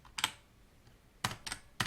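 Short bursts of computer keyboard keystrokes as a password is typed, a couple of quick taps, a pause, then a few more close, crisp clicks, fairly quiet with no talk.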